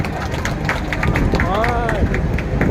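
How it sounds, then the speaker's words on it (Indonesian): A crowd at a regional spice festival applauds a provincial governor, with steady scattered clapping heard under someone speaking loudly over the crowd. "Kita beri tepuk tangan yang paling meriah buat beliau"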